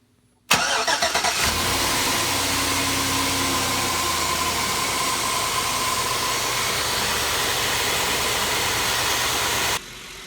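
A 1999–2006 GM vehicle's engine cranks and catches, then settles into a steady, loud idle that runs on with no talk before it drops away near the end.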